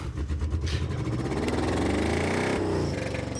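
A 4x4 Lincoln car engine running rough with its fuel pump wired through the open trunk, a loud, close, steady rumble that rises in pitch as it revs, with no talking over it.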